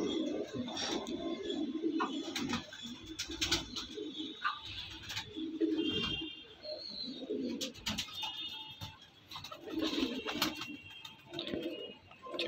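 Punjabi pigeons cooing close by, several birds giving a steady, repeated bubbling murmur with scattered higher chirps and calls layered over it, and no talking.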